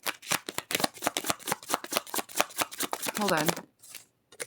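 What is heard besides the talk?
tarot cards being shuffled and drawn from deck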